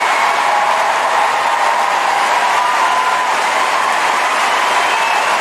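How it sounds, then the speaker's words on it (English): A talk-show studio audience claps steadily for Ellen DeGeneres, a dense, unbroken wash of applause with no letup. "people start clapping for a full minute"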